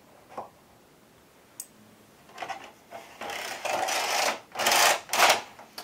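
Ultimate Sweater Machine knitting carriage pushed across rows: scattered clicks at first, then rattling, swishing passes that grow louder and come in bursts, close by.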